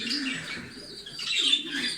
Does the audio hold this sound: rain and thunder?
no